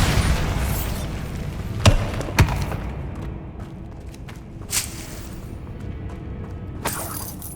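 Spell explosions from Bombarda and Confringo in the Hogwarts Legacy video game: two sharp blasts close together over a dense, noisy game soundscape, followed by a few softer bursts.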